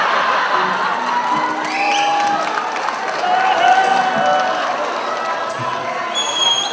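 Applause and cheering from a live audience at a musical performance in Folkestone, a dense, steady wash of clapping and crowd noise with scattered shouts running throughout.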